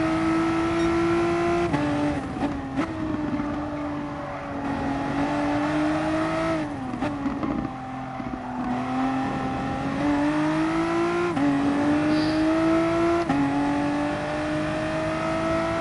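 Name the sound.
VW car engine braking and accelerating on Nurburgring GP circuit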